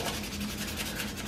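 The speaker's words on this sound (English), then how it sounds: "just do a little sanding on it" Sanding the underside of a plastic tri-blade propeller blade with 600 grit sandpaper, a close, steady rubbing hiss with quick back-and-forth strokes and no voices.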